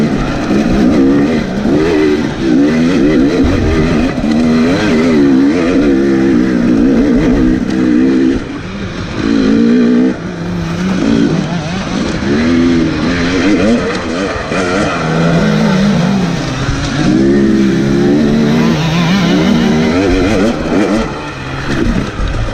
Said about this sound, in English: see if there's a little bit of a two-stroke sound coming up this hill here